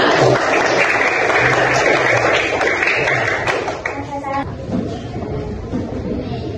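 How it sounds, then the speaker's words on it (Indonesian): A classroom full of people claps together in a sustained burst of applause that tapers off after a few seconds. "beri tepuk tangan semuanya"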